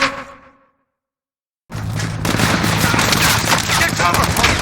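Machine gun fire in Call of Duty: Modern Warfare (2019) comes as a dense, continuous roar of rapid rounds after a fading blast and a brief silence, loud and close, with shouted voices mixed in.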